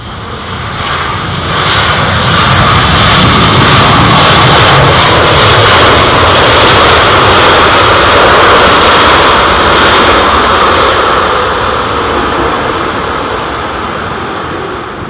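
A jet airliner at London Heathrow deploys its thrust reversers, a loud, sustained broadband roar that swells, holds for several seconds and then slowly eases off, with no voices.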